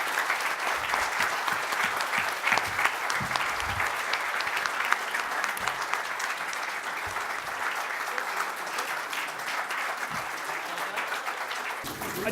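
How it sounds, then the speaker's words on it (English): An audience at a candidates' sustainability forum applauds, a long, even stretch of clapping heard at moderate distance with occasional voices underneath. "let's give these folks a round of applause"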